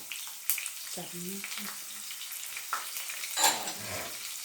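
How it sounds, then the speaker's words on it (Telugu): Onions frying in a pan with dried red chillies and curry leaves, a steady close sizzle with stirring scrapes, while a voice speaks over it. "తర్వాత ఇప్పుడు ఉల్లిపాయలు వేసుకుంటున్నాం."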